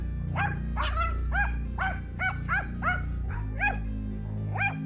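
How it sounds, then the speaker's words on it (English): Angry pug barking at a small lizard, about nine sharp, close barks in a rough rhythm over a steady low rumbling background. "this angry dog decided to bark at a small and seemingly quite calm lizard"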